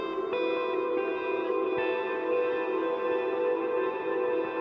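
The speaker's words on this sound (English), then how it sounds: "I got my echo dialed in for a whole new thing." Sustained guitar chords through an ambient echo patch, shimmering and washing together into a dense, even reverberant drone with a few soft new notes layered in, steady and fairly loud with no talk.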